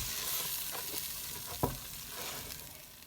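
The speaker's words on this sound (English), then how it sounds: "I'm going to kind of like slowly add it and stir it into the carrot butter flour mixture" Chicken broth being stirred into a carrot, butter and flour mixture in a pot for ham potato soup, a soft steady sizzle with quiet spoon scrapes and one sharper clack midway.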